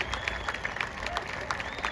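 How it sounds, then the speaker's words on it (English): A grandstand crowd at the Texas Motor Speedway dirt track applauds active-duty service members and veterans before a Kubota High Limit Racing feature, producing a steady, dense wash of distant clapping. "how about a round of applause for all of our active duty"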